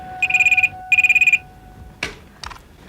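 A telephone rings in two clear electronic trill bursts, close and loud, followed by a clatter of the handset being picked up.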